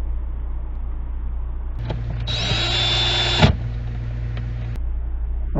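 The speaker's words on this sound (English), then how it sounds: "Now I'm going to drill my pilot holes." A power drill boring pilot holes in a wooden dresser frame whirs steadily for about a second and a half, close and fairly loud, against a low background hum, with faint handling knocks before and after.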